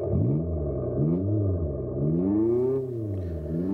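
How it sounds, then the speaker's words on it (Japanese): A synthetic petrol-style engine note from an Abarth 500e electric car rises and falls in pitch as it revs up and settles, smooth and close. "こうしてガソリンエンジンを再現したサウンドが鳴るんですけれども"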